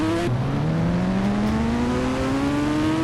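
Motorbike engine in the mobile game Indian Bike Driving 3D, revving hard with a rising whine as it gains speed, loud and continuous after a short gear drop.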